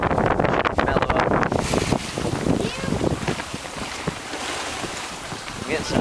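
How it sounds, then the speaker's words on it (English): Steady wind rushing over a Catalina 27 sailboat on open water near a cape in Fitzhugh Sound, a loud broadband roar with gusty buffeting at first, then a continuous wash of wind and waves. "I'm getting some nice wind right here on the Cape."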